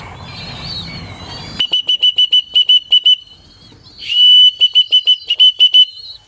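Sharp, high, shrill whistles in rapid rhythmic series, two rounds of quick repeated pulses, blown up close to call pigeons in a loft after feeding, with faint background before the first round.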